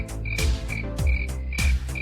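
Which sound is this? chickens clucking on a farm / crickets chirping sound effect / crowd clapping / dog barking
crickets chirping sound effect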